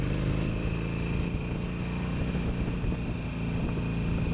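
A Harley 883 Iron Sportster motorcycle engine rumbles steadily while riding, a continuous low throbbing drone with wind noise, loud and unbroken throughout.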